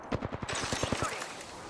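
Automatic gunfire in the video game Apex Legends: a rapid, evenly spaced burst of around ten punchy shots, then a tail of echoing rumble.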